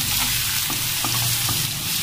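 Ridge gourd pieces are stirred and turned with onions in hot oil, a continuous close sizzle with occasional scraping knocks from the spoon in the pan.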